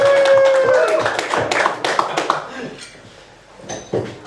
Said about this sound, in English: Big applause for Angelika.